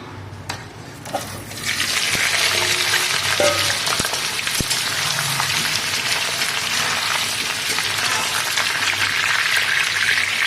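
Potatoes hit hot oil in a pan for a mutton curry and burst into a loud, steady sizzle that stays strong and continuous after a short quiet start, with a few light clinks.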